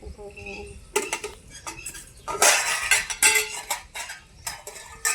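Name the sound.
pot handled while adding khichdi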